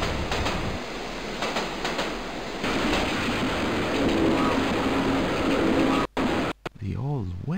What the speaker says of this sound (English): let's get on board this fast-looking train.